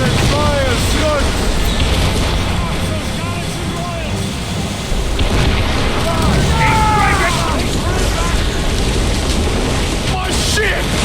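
Ship cannons booming during a naval battle in Assassin's Creed Rogue, heavy blasts over rushing waves and wind, with shouting voices in the mix.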